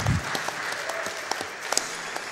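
An audience at the Summer Games Done Quick 2017 speedrun marathon applauds steadily at moderate volume, with a few sharper individual claps standing out from the wash of clapping.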